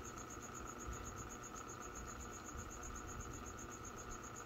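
Crickets loose in an African banded toe gecko enclosure chirp in a steady, continuous high trill, close and unbroken, with no voices.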